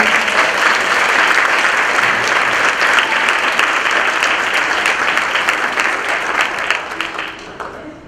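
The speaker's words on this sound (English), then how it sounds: "I think they deserve another round of applause." Audience applause fills a teachers and educational service professionals recognition ceremony, a dense, steady wash of many hands clapping that holds for several seconds and then thins and tapers off toward the end.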